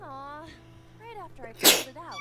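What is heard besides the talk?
sneeze in the video game AI: The Somnium Files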